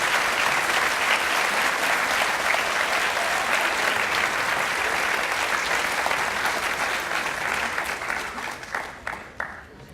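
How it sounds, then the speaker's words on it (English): A graduation ceremony audience at an adult learning center claps in sustained, dense applause for about nine seconds, loud and even before thinning out at the end. "So please applaud them in your gratitude"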